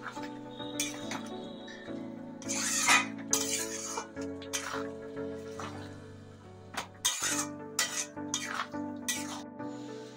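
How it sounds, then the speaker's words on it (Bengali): Boiled yellow peas and potatoes go into a pot of mutton-fat ghugni, with repeated clinks and scrapes of a metal spoon against the pot and soft wet stirring, close and moderately loud, with no talking. "এখন আমি দিয়ে দেবো সিদ্ধ করা মটর আর আলু।"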